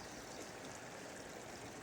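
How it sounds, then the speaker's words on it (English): Kern River flowing at Miracle Hot Springs: a soft, continuous wash of rushing stream water, steady and even, faint and heard from a short distance. "this is Miracle Hot Springs on the Kern River."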